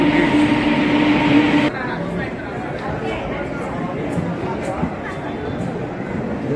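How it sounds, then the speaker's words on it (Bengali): A steady, loud rumble and rattle of a fast train passing through a platform, with murmuring voices under the noise. "একটা দ্রুতগামী ট্রেন প্ল্যাটফর্ম"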